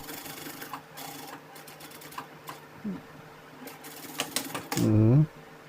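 A sewing machine stitches a side pocket in short, intermittent runs, each burst of needle clatter stopping and starting close by, with a voice speaking briefly near the end.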